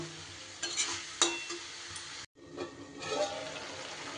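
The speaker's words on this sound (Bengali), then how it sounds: "এই পর্যায়ে আমি কাজু কিশমিশটাও দিয়ে দিচ্ছি। খুব ভালো করে আরও একটু সময় আমি নাড়িয়ে নেব।" Cashews and raisins stirred into a pan of vegetable korma, soft scraping and gentle sizzle with a few sharper clatters of the spoon, a brief break partway through, no talk.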